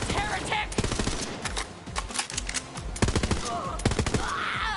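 Rapid video game gunfire crackles in irregular bursts of sharp shots, loud and close, with brief pauses between volleys and faint background sounds.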